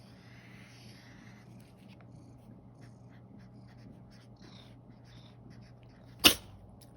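A single sharp sneeze near the end, loud and abrupt against a quiet room with a low hum and faint talk earlier.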